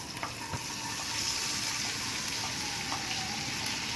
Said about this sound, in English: So now I am going to put some boiled corns.